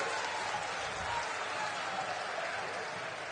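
At a political rally in Shahdol, Madhya Pradesh, a large crowd welcomes Rahul Gandhi with sustained applause, a dense, even wash of clapping that holds steady throughout.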